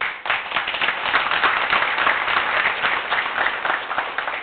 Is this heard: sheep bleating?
no